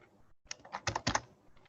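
Typing code on a computer keyboard: a short run of quiet, rapid key clicks, close and alone, with a brief pause before the keystrokes cluster.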